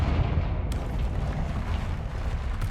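A Confringo blasting spell explodes in the video game Hogwarts Legacy. It gives a deep, rumbling boom that lingers as a dense low roar, with no voices.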